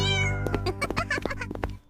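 A cartoon kitty gives a drawn-out, sing-song meow followed by a quick run of chirpy mews, close and clear, with soft music beneath that cuts off abruptly at the end.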